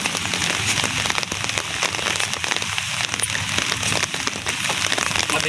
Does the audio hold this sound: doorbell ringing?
no